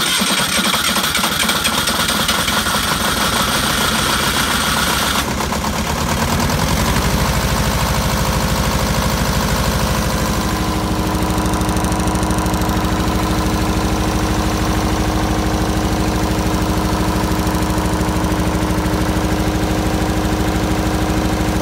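A MEP003A military diesel generator with 900 hours, running on heating oil, starts up with a rough clattering crank, then settles into a loud, steady diesel idle with a constant mechanical knock, heard close up and alone.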